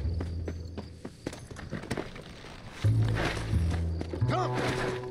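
A horse in Red Dead Redemption clip-clops in scattered single hoofbeats, then snorts and whinnies loudly, with a voice briefly over the sounds.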